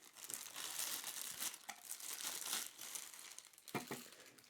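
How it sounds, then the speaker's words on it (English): A clear plastic bag is pulled off an OXO Good Grips POP container with scoop, giving continuous close crinkling and rustling with a few louder crackles near the end. "So let's go ahead and remove its clear plastic bag."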